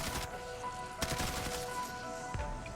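A rifle in Call of Duty Zombies fires a few sharp, spaced shots over a steady hum of game background sound.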